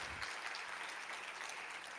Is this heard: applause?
yes